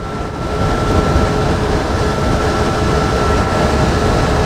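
A car cruises steadily in fourth gear at about 80–90 km/h, giving a loud, continuous drone of engine and road noise with a faint steady hum and no break or change across the stretch.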